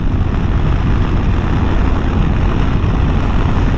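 A Yamaha Tenere 700 motorcycle engine runs at speed in sixth gear around 6,000 RPM, a steady, loud droning roar mixed with rushing wind buffeting the rider.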